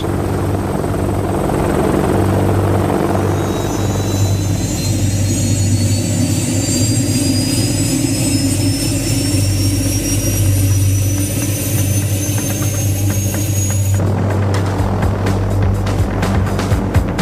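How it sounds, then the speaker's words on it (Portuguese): A Lynx helicopter's rotor and turbine roar loudly throughout, steady and close, with a rising whine, cutting to a harsher, choppier blade beat near the end. "O helicóptero é o máximo em máquinas voadoras."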